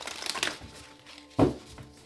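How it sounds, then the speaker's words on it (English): Tarot cards are shuffled by hand in a few quick riffling bursts, with a sharp, louder snap of cards near the end amid quiet room tone. "Two more shuffles."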